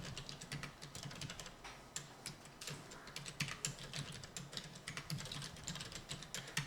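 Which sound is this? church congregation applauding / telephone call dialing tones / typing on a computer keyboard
typing on a computer keyboard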